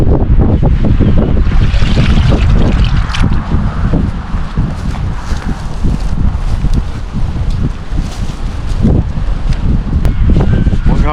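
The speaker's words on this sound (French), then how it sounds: "Le vent du nord là, qui me souffle devant" Strong, cold north wind gusts roar against the microphone in a steady, rumbling wash of noise while fishing, lasting the whole time, with no talking.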